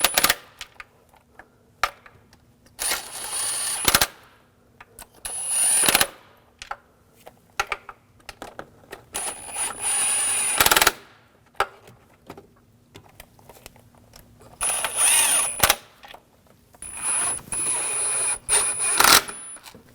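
Bursts of rapid ratchet clicking come up close as bolts are snugged down on a 2007-2013 BMW 328i 3.0L inline-six during a crankshaft position sensor replacement, with sharp metallic ticks and short pauses between runs.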